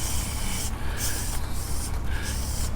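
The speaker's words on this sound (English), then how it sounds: "once you spray down that buggy" Lysol disinfectant sprayed onto a shopping cart, several broad hissing bursts that rise and fall, close and steady.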